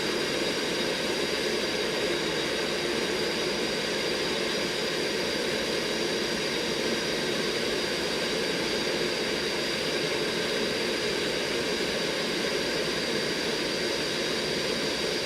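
Concorde jet engines in the X-Plane 12 flight simulator, a steady, loud broadband roar that holds evenly from start to finish with no talk over it.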